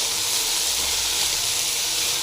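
Continuous broad hiss and crackle of mudakathan chutney ingredients sizzling in hot oil, steady and fairly loud throughout with no pauses.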